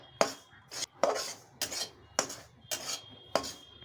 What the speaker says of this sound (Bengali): সুজিটা আমি এখানে তেল ছাড়া আগে টাইলে নিব ভালো করে শুকনা